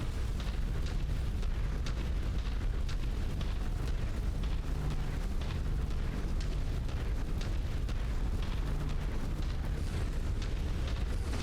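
Missiles launch and explode in a modded MechWarrior 5 battle, a dense, continuous rumble of booms and blasts rolling together without pause.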